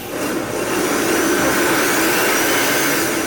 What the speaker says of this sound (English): So now I get this on my Vitamix. I'm just going to blend them till they're really, really nice and smooth.